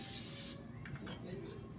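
A short hissing burst of cooking spray coats a cake pan, loud and close for about half a second, followed by quieter rubbing and faint kitchen sounds.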